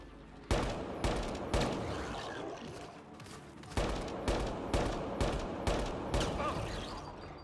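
Gunfire in Mass Effect Andromeda, sharp distinct shots in two irregular bursts, close and fairly loud, each crack decaying briefly before the next, with little speech.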